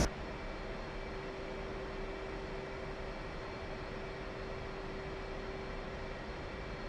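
F/A-18C Hornet jet taking off in the DCS flight simulator, with a steady, loud, broadband engine roar and a constant whine running the whole time, unchanging and close.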